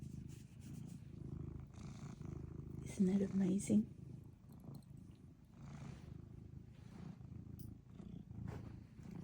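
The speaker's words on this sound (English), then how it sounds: "Listen to the purr." A pet cat purring close and soft, a steady low rumble running throughout, with someone talking affectionately over it and a brief louder vocal burst midway.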